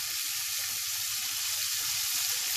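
Fresh fish fries in a hot pan as part of a Croatian-style fish dish, making an even, unbroken hiss of sizzling oil throughout with no talking.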